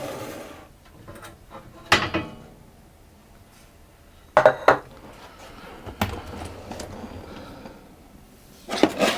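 Muffin batter being scooped into a metal muffin pan, with scattered clanks, scrapes and knocks of utensil against metal at irregular intervals, close and moderately loud, with quiet gaps between.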